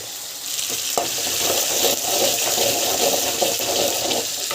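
Tomato puree pours into a hot frying pan, raising a loud, rushing hiss of bubbling and sizzling that swells and holds steady, close up, with a faint clink and no voices.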